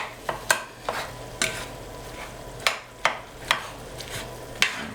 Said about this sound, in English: Make sure the meat is cooking evenly. You want to give it a stirs.